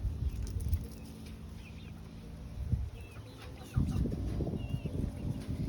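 Young chickens about 21 weeks old clucking close by in a backyard, with a steady run of soft low clucks that grows busier and louder in the second half, while a few faint bird calls sound farther off.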